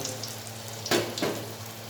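Gentle sizzling of corn fritters frying in oil, a steady hiss with a couple of sharper crackles and clinks close by.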